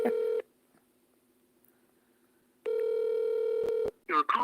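A telephone call being dialed: a steady dial tone cuts off, then resumes with a couple of sharp dialing clicks, followed by a brief burst of voice.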